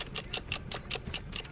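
A wrench turns a loosened axle nut on a Nissan Altima during a CV axle and wheel bearing repair, giving a quick, regular series of close, light ratcheting clicks.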